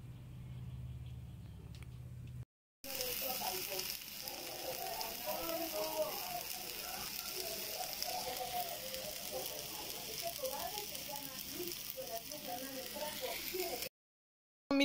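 Homemade salsa of tomato, onion, chile de árbol and jalapeño frying in a pan gives a steady, dense sizzle with crackling pops that carries on evenly, close by, cutting in after a brief pause and stopping abruptly near the end.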